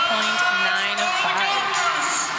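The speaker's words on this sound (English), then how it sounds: "Lots of cheering over on floor." Crowd cheering and whooping at an NCAA gymnastics quad meet in Minnesota, a sustained roar of voices filling the arena with a commentator talking over it.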